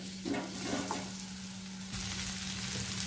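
Paneer pieces fry gently in a pan as the topping for a stovetop pizza, giving a soft steady sizzle with light stirring, close and without any voices.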